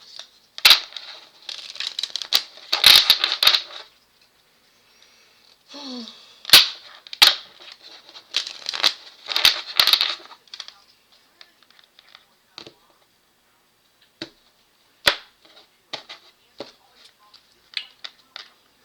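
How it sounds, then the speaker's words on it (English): A deck of playing cards being shuffled, with repeated crisp riffling bursts and snaps close by, in short clusters separated by pauses and a few isolated taps. "Shuffle these good"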